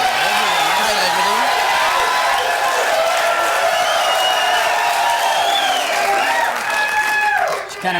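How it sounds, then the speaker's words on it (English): A studio audience at a TV dating show cheers, whoops and applauds a contestant, a loud sustained crowd roar lasting throughout and tapering slightly at the end, with a host's voice faintly mixed in. "I think the crowd's into it."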